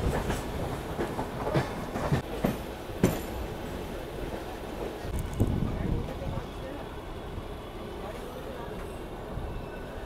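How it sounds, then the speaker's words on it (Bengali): The Asansol to Bardhaman MEMU local train departs Asansol Junction station, a moderate rolling rumble with intermittent clanks and wheel clacks, under crowd noise and nearby talking. "এই বন্ধুরা বেরিয়ে যাচ্ছে আসানসোল থেকে বর্ধমান মেমু লোকাল।"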